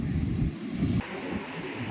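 Sea surf breaks on a beach in a steady low rumble with strong wind buffeting the microphone, loud and close throughout the short stretch.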